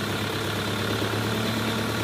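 A Kubota MU-series tractor engine idles at around 900 RPM, a steady, close, low diesel hum that runs unchanged throughout with no voices.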